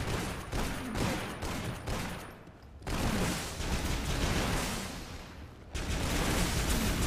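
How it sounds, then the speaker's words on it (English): Gunfire from the video game Toxikk, a pistol's alternate fire loosing three-round bursts, comes as dense, loud volleys that cut out briefly twice and resume, with no speech. "Those 3-round bursts, is that you doing that? Or? Yeah, that's the alt fire on the pistol."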